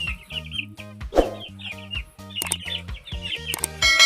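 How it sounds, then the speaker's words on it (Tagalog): Clucking calls from a hen of a white kelso gamefowl breed, repeated in short bursts over a steady low drone, with a few higher chirps from birds alongside. "Yung inahin na manok na yun eh."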